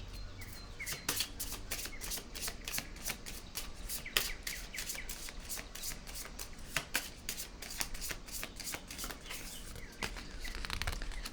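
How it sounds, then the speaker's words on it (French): Playing cards being shuffled and a card drawn from the deck during a tarot-style reading, a steady run of crisp riffling snaps and flicks, close and alone without talk. "Je vais piger une autre carte ici."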